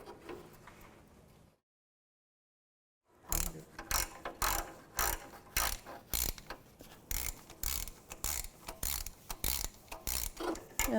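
A ratchet snugs the oil pan bolts on a 2005-2009 Subaru Outback. After a short silence, crisp clicking runs in quick, steady bursts close to the listener.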